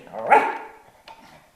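A dog gives a single loud, close bark near the start, followed by a fainter yip and quiet room sound.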